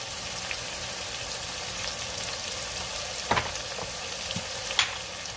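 Spiced longaniza rice mixture with allspice, pepper and salt is stirred in a hot pot: a strong, continuous sizzle close by, broken by a few scraping knocks of the spoon.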